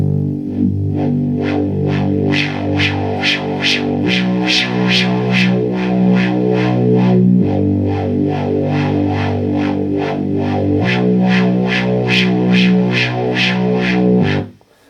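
microKorg synthesizer holding a repeating sequenced pattern while its settings are tweaked live, bright buzzy tone shifting in timbre over a steady pulse, loud and continuous before cutting off, with no voices.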